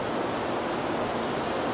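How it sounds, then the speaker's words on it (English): Steady rain falls outdoors at a delivery stop in Wilmington, North Carolina, a constant, fairly loud broadband hiss with no voices over it. "Yes, rain."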